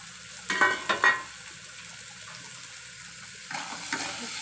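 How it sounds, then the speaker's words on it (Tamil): Onions fry in a pan with a faint, steady sizzle, broken by a few nearby clinks and scrapes of stirring at the start and again near the end. "நல்ல வெங்காயத்தை நல்லா ஃப்ரை பண்ணணும்."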